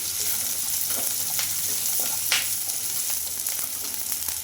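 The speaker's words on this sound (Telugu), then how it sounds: "ఈ జీడిపప్పు కూడా కొంచెం బాగా ఫ్రై చేసుకోవాలి" Cashew nuts frying in a pan, a steady close hiss of sizzling oil with a few soft crackles and stirring scrapes, no talk.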